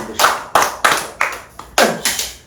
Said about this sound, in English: make a clap for a congrats